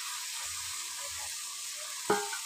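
Mourala fish frying in hot spiced oil, a steady close sizzle with a few low stirring scrapes and one sharp clink near the end.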